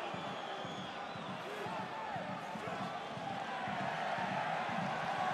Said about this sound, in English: the crowd whistling and booing now their team